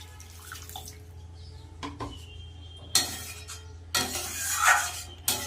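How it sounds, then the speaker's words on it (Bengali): Water is poured into fried spice masala, giving loud bursts of splashing and hissing sizzle near the end, after a quieter stretch of faint clinks and kitchen noise. "এবার আমি জল দিয়ে দেবো"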